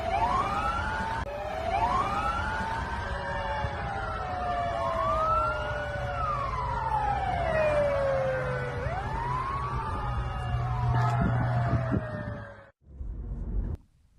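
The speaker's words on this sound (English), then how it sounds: "when drivers hear sirens, they quickly make way and arrive in time to help rescuers" Emergency vehicle sirens wail and sweep up and down on a road in Slovenia, loud and continuous over traffic rumble before cutting off near the end.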